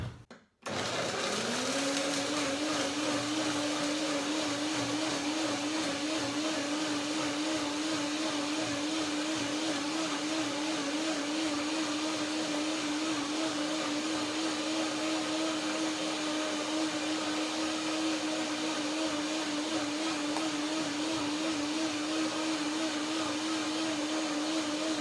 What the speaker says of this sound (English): This is the first blending to break the main ingredients down, the cashews, that is, and the mulberries.